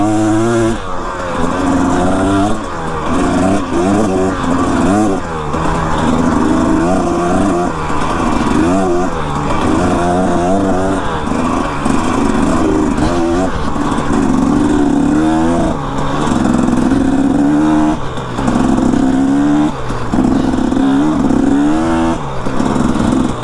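A motorcycle is ridden over rough desert terrain, its engine loud and close the whole time. The revs rise and fall constantly as the rider works the throttle over the bumps.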